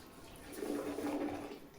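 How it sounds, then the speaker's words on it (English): A household toilet flushes in a bathroom being cleaned, a soft, brief rushing whoosh of water heard alone at low level. "you're going to need to flush the toilet"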